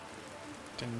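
Rain falls in the video game Planet Crafter as a faint, soft, continuous patter under a steady hiss, with a low tonal hum entering near the end.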